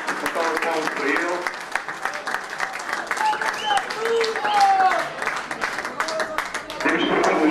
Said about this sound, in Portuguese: Uma salva de palmas para o José Max, para o primeiro colecionador a terminar a caderneta de cromos do Chico Cristal Branco